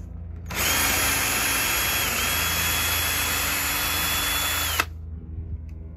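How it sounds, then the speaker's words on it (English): A power drill bores a pilot hole while a removable slat bed is built into a van: a loud, steady high-pitched whine that starts abruptly, runs about four seconds, then cuts off sharply. "I'm drilling a pilot hole."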